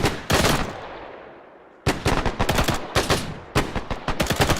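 Machine gun fire in the Arma 3 military game in a WWII setting: loud, close bursts of rapid automatic shots, one long burst followed by several quick repeated bursts with brief pauses between them.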